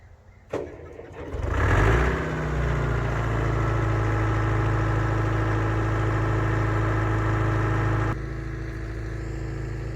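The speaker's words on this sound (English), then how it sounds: "The Gradall has a 471 Detroit diesel." A Gradall excavator powered by a Detroit Diesel 4-71 engine cranks over and settles into a steady, loud, close idle with a rumbling tone, dropping slightly near the end.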